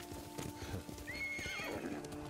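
A horse from the game Ghost of Tsushima gallops with a steady, close clip-clop of hooves, joined midway by a rising whinny over a sustained musical drone.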